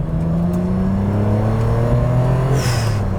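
A Ferrari 456 GT engine revs smoothly and loudly, its tone climbing steadily under acceleration with a rising whine near the end.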